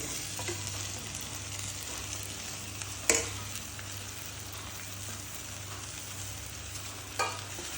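Colocasia (taro) leaves tossed into a hot tempering in a pan, giving a steady low sizzle and frying hiss with a couple of sharp stirring knocks, close and moderately loud, with no talking.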